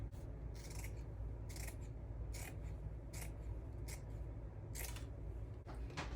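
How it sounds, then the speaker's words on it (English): Scissors snip through material while an Easter bunny wreath is built on a bicycle wheel frame, a quiet series of short, crisp cuts spaced irregularly over soft room noise. "I'm going to cut this off."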